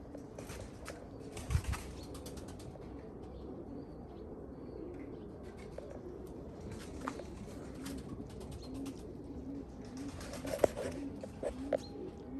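Pigeons coo softly at a distance amid a faint outdoor hum, with occasional brief rustles and a wing flutter.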